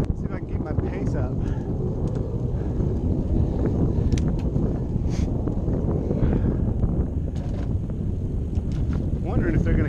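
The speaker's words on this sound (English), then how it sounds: "now we're heading into the wind" Steady, loud wind roaring and buffeting on the microphone while cycling into a headwind on a bike path. It continues without a break for the whole stretch.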